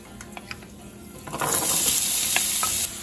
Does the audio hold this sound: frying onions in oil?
yes